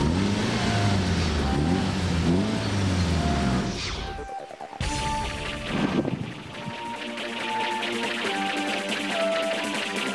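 A 330-horsepower Nissan Cefiro A31 drift car revs hard, its engine climbing and falling in pitch, cutting out abruptly, then roaring back up and settling into a sustained loud drone.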